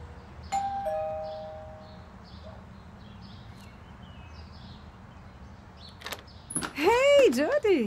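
A doorbell chime at a house party's front door in the video game Beyond: Two Souls, a short two-tone ding-dong near the end after a quiet stretch with a faint earlier tone and soft background movement.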